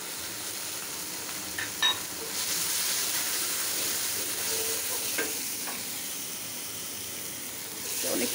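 Ginger garlic paste with green chilli, turmeric, chilli powder and salt frying and being stirred in a hot pan, a steady close sizzle with scraping stirs and a few brief clinks throughout.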